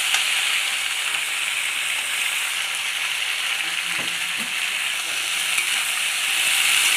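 Crab curry with yard-long beans sizzling and frying in a pan while being stirred, a steady loud hiss throughout with a few soft scraping stirs in the middle.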